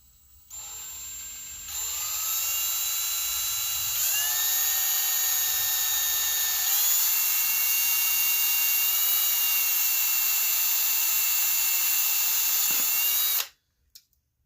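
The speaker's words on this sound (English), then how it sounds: "We're going to drill a couple of tiny holes into the square." A small drill whines steadily at high pitch for about twelve seconds, boring tiny holes in a square for a DIY critter tube, its tone rising in steps as it speeds up, then stops abruptly.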